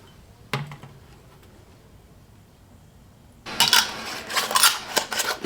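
Steel wool being put into a glass mason jar with apple cider vinegar, a single sharp clink, then a quiet pause, then a burst of rustling, clattering metal-on-glass scraping and knocks.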